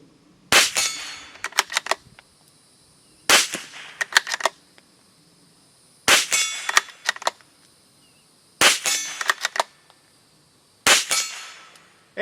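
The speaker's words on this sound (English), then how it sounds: "nice generous bolt, loads those rounds in really smooth." The bolt of a Springfield Armory Model 2020 Rimfire Target .22 LR rifle is worked to load rounds, giving five separate clusters of sharp metallic clacks spaced a few seconds apart, close and crisp against near silence.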